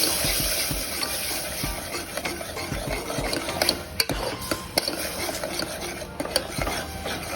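Tomato paste and curry leaves are sautéed in a pan for a Tamil mutton bone curry. A spoon stirs and scrapes steadily against the metal pan over a broad, bright sizzle, close and continuous, with no talking.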